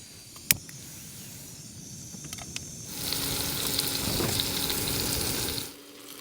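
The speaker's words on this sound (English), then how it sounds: "Just cooking up some meatballs very, very slowly." Meatballs fry slowly over a gas stove with a nearly empty gas bottle on a freezing, windy wild camping night, giving a steady soft sizzle that swells midway after a faint click and then cuts off.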